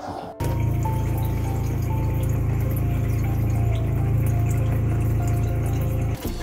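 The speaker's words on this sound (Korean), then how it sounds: "물줄기가 어느 시점에서 약해지는지 한번 확인해 보도록 하겠습니다." Water runs from the shower of an Orion 20CB American motorhome: a steady, loud, continuous rush with a low pump-like hum that starts abruptly, holds evenly for about six seconds, then cuts off.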